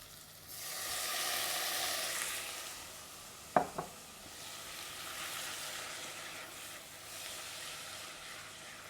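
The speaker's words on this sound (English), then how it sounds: "So I'll sweat these onions for a bit." Onions sweat in a pan with a soft, even sizzle that swells and fades, interrupted midway by two quick metallic knocks.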